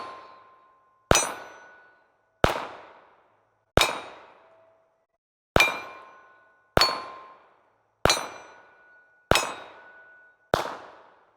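.380 pistol rounds hitting heavy 3/8 inch steel plates outdoors, nine separate loud metallic clangs spaced a second or so apart, each ringing out and decaying, with no talking.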